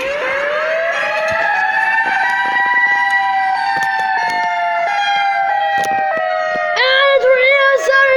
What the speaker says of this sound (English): And the tornado siren's going off!